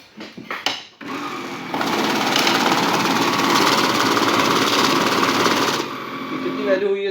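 A Lidix JL2V currency counting machine riffles through a mixed stack of 500 and 1000 rupee notes, a steady whirring, fluttering drone lasting several seconds, with clicks and handling noise before and after.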